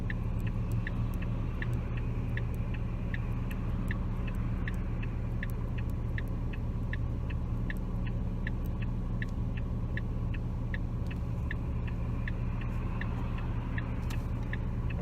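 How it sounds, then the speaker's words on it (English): A car passes on a road as a steady close engine rumble holds throughout, with a regular faint ticking over it and no talk. "there was a car coming from the opposite direction"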